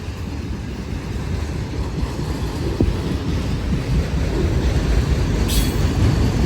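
Loaded rack freight cars roll past on the old B&O Dayton District line with a continuous low rumble and rattling wheels, a deep steady clatter with a faint high squeal near the end.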